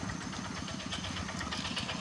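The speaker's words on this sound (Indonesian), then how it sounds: "Jadi ini prosesnya kalau menggunakan traktor ini lebih cepat" Tractor engine working a rice paddy during ploughing, a steady mid-pitched mechanical drone with a continuous rumbling vibration, fairly constant and uninterrupted throughout.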